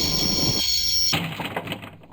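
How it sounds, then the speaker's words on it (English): A train in the Broken Sword game grinds to a halt, a loud rumbling and squealing mass that cuts off abruptly into a fading clatter of wheels. "I always wanted to stop a train, and now was my chance."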